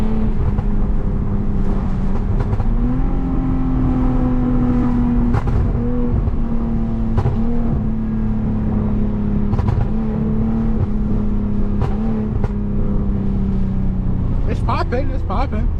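A tuned Lexus IS250 with M-Force tuning and exhaust valves open, rumbling steadily and revving, with faint pops and crackles near the end.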